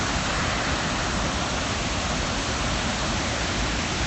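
Floodwater after Typhoon Dujuan in northern Taiwan surges through a concrete channel, making a dense, steady roar that stays loud and unbroken throughout, with no voices.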